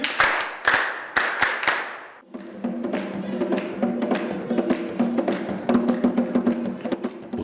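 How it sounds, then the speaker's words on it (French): A crowd at an interreligious dialogue gathering in Chad breaks into applause, sharp separate claps at first, then a denser, steady round of clapping that carries on throughout. "Applaudissez pour lui."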